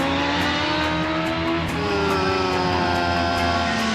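A BMW S 1000 RR superbike screams at high revs on a race circuit, a loud, continuous sustained engine whine that dips briefly as it shifts gear, then climbs again.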